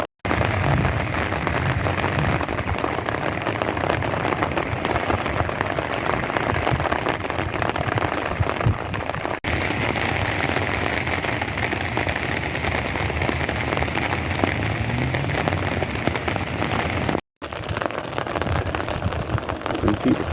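Steady heavy rain from Tropical Storm Alvin falls over a desert street with parked cars, a dense continuous hiss and patter that runs unbroken throughout.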